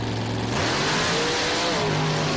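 Monster trucks including Grave Digger racing side by side on a beach at a Wildwood, New Jersey event in 2002, loud close engines roaring and revving continuously with a rising pitch as they accelerate, no talk.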